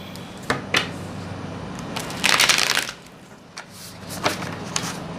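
Close, brisk card shuffling: a few sharp flicks, then a dense riffling burst in the middle, followed by lighter taps and rustles.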